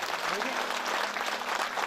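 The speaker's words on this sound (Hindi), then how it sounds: "एक बार ताली बजाइए इनके लिए।" An audience at a Hindu yajna ceremony claps, giving dense, continuous applause that stays loud and even throughout.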